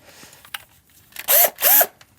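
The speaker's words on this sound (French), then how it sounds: "on va pouvoir percer les différents trous" A wood drill bit bores holes while a motorcycle holeshot kit is fitted, heard as two short, loud whirring bursts close by after a few light taps and handling clicks.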